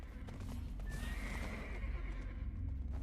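A horse in the Black Desert Online game gives one clear whinny over a bed of clip-clopping hooves, faint and steady in the background.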